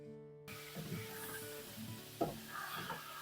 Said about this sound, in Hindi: 1200 ग्राम मटन ऑयल में डाल दें और गोश्त को अच्छी तरह भून लें